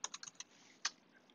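A few quick keystrokes on a computer keyboard, a short burst of clicks, a pause, then one more tap, quiet and close.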